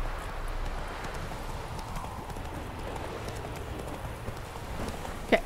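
A horse's hooves clop in a steady rhythm while riding in The Witcher 3, accompanied by soft rain-like patter and a sharp tap near the end.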